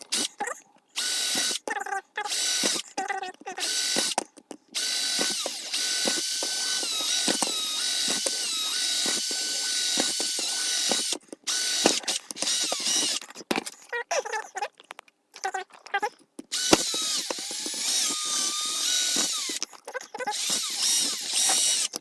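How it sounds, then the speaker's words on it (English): A small power drill bores holes in an Amiga 1200 computer case, whining in repeated bursts of several seconds with brief stops between them, close and loud throughout. "So you're going to be drilling a few small holes here."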